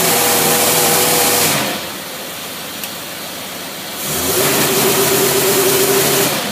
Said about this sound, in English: Okay, first we're going to rev her up without a load.